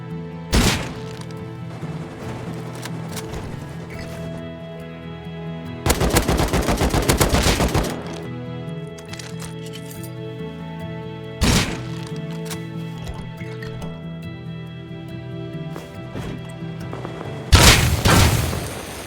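Rocket and C4 fire in an ocean survival video game, with loud bursts of gunfire and booming explosions breaking out at intervals over a steady background hum, and no talk.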